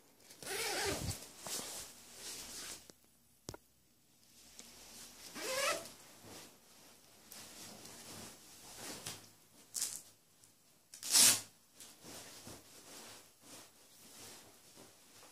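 Several quick rasping zipper pulls as a Husky Annapurna -28 C sleeping bag is unzipped, coming close and fairly loud in short bursts separated by quiet pauses and faint handling noise.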